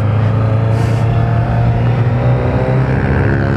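Kawasaki ZX-25R motorcycle engine running loud and steady nearby, a sustained droning rumble with a brief higher whine, no talk.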